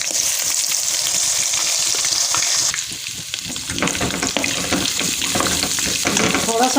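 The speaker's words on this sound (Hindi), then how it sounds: "तो फिर हम थोड़ा सा इसको फ्राई कर लेते हैं।" Garlic-ginger paste with green cardamom sizzles and fries steadily in a pan, with stirring and clinks mixed in, a close, continuous crackle for the whole stretch with no talk.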